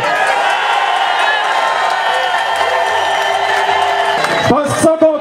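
A crowd of protesters outside the Sûreté du Québec headquarters applauds and cheers the police in a dense, loud wash of clapping and shouts that breaks off near the end.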